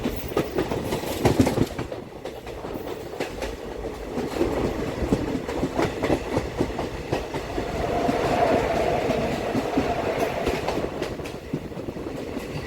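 Deoghar-Howrah Mayurakshi Express 13046 running on its route toward Rampurhat, heard from inside with a continuous rumbling roar and rhythmic clickety-clack of wheels over rail joints, steady and fairly loud, no voices.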